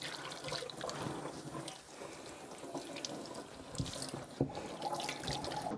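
Water is run over a fabric upholstered chair to rinse it, a continuous splashing and trickling with a few louder drips and spatters, close by and steady.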